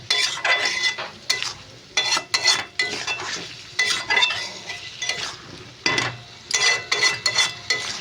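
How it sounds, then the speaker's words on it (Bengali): Drumstick vegetable pieces are stir-fried in a pan with sharp, rhythmic scraping and clinking bursts from the spatula against the metal, broken by brief pauses, close and fairly loud. "এভাবে কষা কষি শুরু করে দেন আপনারা"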